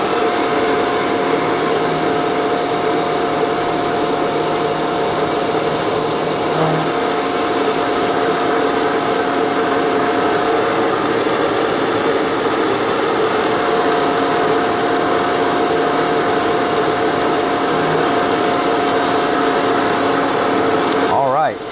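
A milling machine spindle running at about 2,000 rpm while side-milling metal, making a loud, constant high whine and hum that runs unbroken for the whole stretch, with speech faintly underneath.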